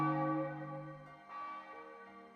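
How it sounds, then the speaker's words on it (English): A gong in the Irotoridori no Sekai visual novel rings out with one deep, resonant strike and a long shimmering decay that gradually softens, heard alone without speech. "I hear a loud, painfully nostalgic sound in my head. The sound of a gong."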